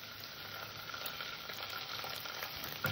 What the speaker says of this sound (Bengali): আমি আদা রসুনটাকে কষে নেবো